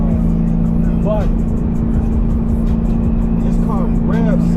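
A Ford DOHC 4.6 V8 holds a loud, steady engine drone with a strong low hum from inside the car, and brief faint voice fragments sit over it.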